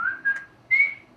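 A person whistles two clear tones, one held and one rising slightly, with a short gap between them, close and alone.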